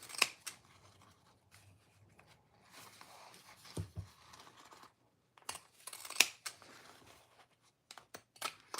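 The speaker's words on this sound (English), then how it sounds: "pinking shears don't like more than a couple layers, and it depends on what those layers are, how well they cut" Pinking shears snipping through a couple of fabric layers while a cute bag is made, giving sharp crisp crunching cuts in irregular bursts with quiet gaps between them, close and alone.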